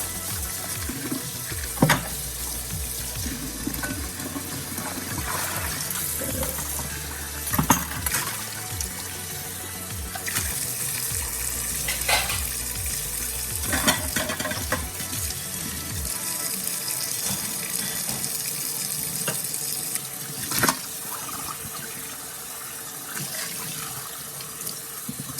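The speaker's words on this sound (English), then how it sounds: "I'm using really, really hot water, cleaning out these dishes that I just used" Dishes are washed in a kitchen sink under really hot running water. The tap flows steadily and nearby, broken by scattered clinks and knocks of dishware, with no talking.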